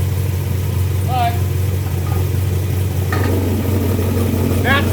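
A car fitted with a boom tube idles with a deep, steady exhaust drone, broken by a few sharp crackles and pops near the microphone.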